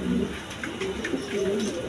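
Pigeons on a home pigeon farm coo continuously in low, throaty rolls, near and fairly loud, over a steady background hum with overlapping calls.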